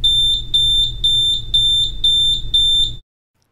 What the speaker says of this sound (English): A green LED and slow beep indicates that a section has electrical integrity.